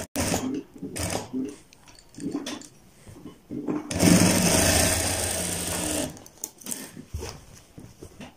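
A sewing machine stitches a kurta design in a few short bursts, then runs a longer steady stretch of rapid mechanical whirring, close and clear between pauses.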